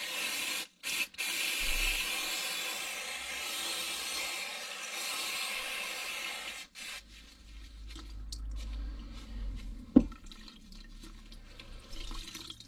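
Rinse water running and splashing off a cleaned foam air filter from a Yamaha 125 DTR motorcycle, a steady broadband wash of flowing liquid with a sharp knock near the end.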